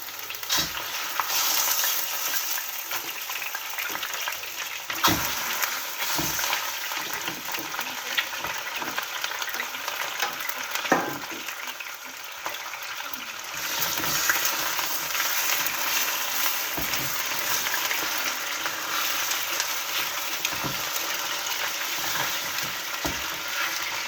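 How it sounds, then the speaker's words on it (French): Meat searing and browning in hot oil for a traditional Algerian rechta, a loud continuous sizzle and crackle heard close up with occasional stirring clicks and no talk. "mon huile est chaude. On va dorer notre viande."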